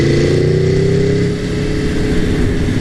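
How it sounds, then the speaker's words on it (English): An Aprilia Tuono Factory motorcycle sounds through its exhaust with a loud, close engine note that rises in pitch as the revs climb, dips briefly, then settles into a throaty, pulsing rumble. "Oh, I love that exhaust,"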